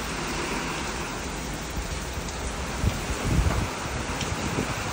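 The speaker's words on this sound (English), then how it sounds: "The wind gusts are getting pretty gnarly." Hurricane Milton wind in Clearwater, Florida roars in a constant broadband rush, swelling into stronger gusts partway through, with rain-like hiss beneath.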